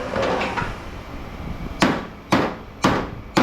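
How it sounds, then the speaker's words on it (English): A hammer strikes a weld on old metal lighting fixtures during a shop scrap-out. After a scraping rattle come three sharp, loud metallic blows at roughly half-second intervals, then the start of a fourth. "Sometimes you get in there with the back of the hammer, you're more precise, and you got to get right on that weld."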